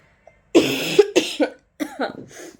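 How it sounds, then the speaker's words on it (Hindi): A person coughs several times in a row, harsh and close, a cluster of hacking bursts followed by a couple more after a short pause. "खांसी बहुत ज़्यादा हो रही है"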